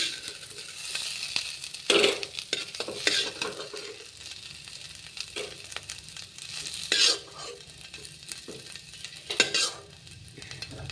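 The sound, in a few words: frying potatoes in a pan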